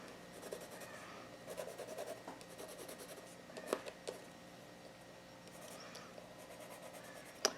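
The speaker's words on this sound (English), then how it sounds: "you just make a couple pencil marks like this." A pencil scratches short marks onto paper during a papercraft mini album project, with light scribbling strokes and occasional taps and rustles of paper close by.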